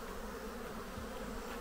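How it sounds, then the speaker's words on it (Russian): Honey bees fly around an apiary in early May after winter, a dense, steady buzzing swarm that hums continuously at an even level. "Пчелы наконец-то после зимовки начали"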